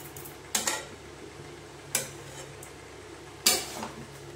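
A utensil scrapes and knocks against a pan as garam masala is mixed into a cooking dish, three distinct metallic clinks a second or so apart over a low steady background hiss, with no talk.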